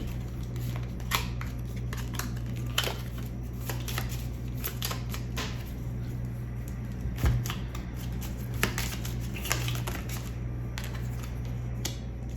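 Chakra cards being shuffled by hand, a dry repeated riffling and slapping of card stock in quick irregular bursts, close up, over a steady low hum.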